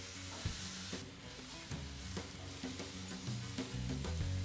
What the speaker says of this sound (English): we're hitting the grill. It's been preheating on high. We're gonna lay these down for about 5 minutes